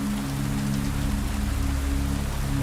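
Steady heavy rain pours at night in a cemetery, a dense continuous hiss of drops hitting surfaces, close and unbroken, with a low constant hum beneath.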